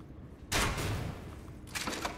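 A crossbow firing in the video game Elden Ring, two loud sharp bursts with ringing impact noise, the first followed by a sustained rumble and the second arriving more than a second later, with no talking.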